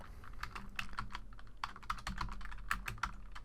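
Keys on a computer keyboard are tapped in quick, uneven bursts while a Minecraft game command is entered, with close, crisp clicks and brief pauses between them and no talking.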